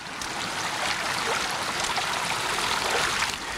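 The Koshkarata river flows into the Boraldai at their confluence, a steady close rush and trickle of running water, alone and without voices.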